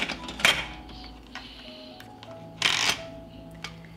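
A pressure cooker lid is fitted and closed with two distinct metallic clanks, separated by softer small rattles, close and fairly loud.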